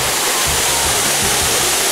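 A forest waterfall roars loud and close, a dense, unbroken rush of falling water filling the whole moment.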